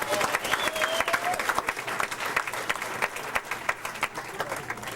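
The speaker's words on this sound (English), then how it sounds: "every woman in the house clapped on that one" An audience at a comedy club applauds, a dense patter of clapping at moderate volume with a few scattered cheers, briefly filling the room on a 1996 night at the Walnut Creek Punch Line.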